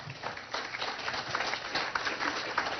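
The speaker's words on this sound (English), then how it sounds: "Let us give them our applause." An audience at a prime minister's public event claps in a steady, moderately close burst of applause that holds at an even level for a few seconds.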